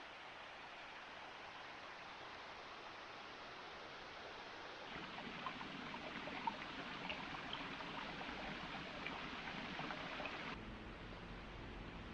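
Creek water rushes steadily in Henley Hollow along a backpacking trail in the Little Dry Run Wilderness, Virginia, heard as a continuous soft broadband wash that swells somewhat louder midway, with no talking.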